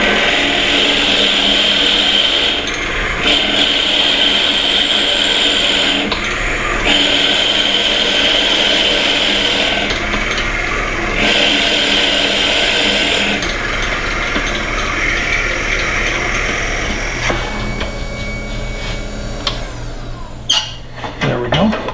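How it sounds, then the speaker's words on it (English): A wood lathe spins a cryptex cylinder while it is bored out, making a loud, steady whirring drone with tool chatter and brief changes in pitch, before the noise grows rougher near the end. "Turn the lathe speed down a little bit."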